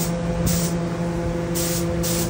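Steady, close hiss of a dialed-in spray gun laying final finish coats on a sunburst mandolin in a spray booth, with a constant low machine hum underneath and brief louder bursts of air.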